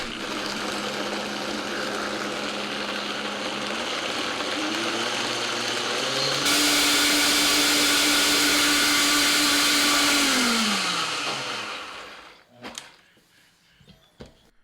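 A blender blending spinach with warm chicken stock runs loudly and continuously, its motor pitch shifting as it speeds up, then winds down and stops, followed by a few clunks.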